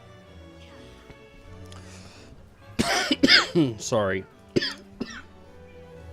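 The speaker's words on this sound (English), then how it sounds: "I think it's just giving me a little bit of a little cough" A woman coughs and clears her throat several times in quick bursts after swallowing water the wrong way, close and fairly loud, with a brief spoken apology and soft background game music.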